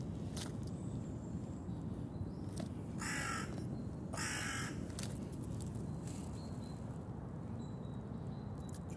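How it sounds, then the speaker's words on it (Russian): A crow caws outdoors in two loud bursts a second apart over steady low background rumble, with faint chirps and rustles around them. "Что-то ворона."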